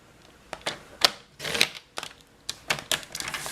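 Designer paper cut down with a paper trimmer, a close series of crisp clicks and short slicing swishes coming in irregular bursts, with no talking.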